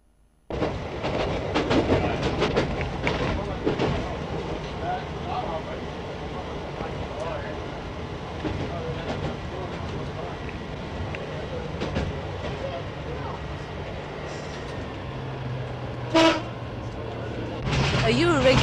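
A Belmont line passenger train from around 1970 runs with a continuous rumbling roar and rhythmic clatter of wheels on rails, steady and close throughout, with a brief horn-like tone near the end.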